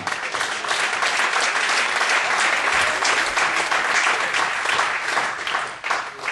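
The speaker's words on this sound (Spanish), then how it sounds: "¿Por qué no le damos un fuerte aplauso a Dios?" A church congregation claps together in sustained, dense applause, loud and even throughout before tapering slightly at the end.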